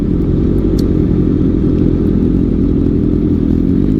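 A loud Honda CBR650F motorcycle engine runs continuously with a deep, throbbing rumble, steady and close throughout.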